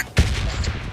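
A sudden loud burst of gunfire in PUBG Lite, sharp and close, followed by a lingering rumbling tail.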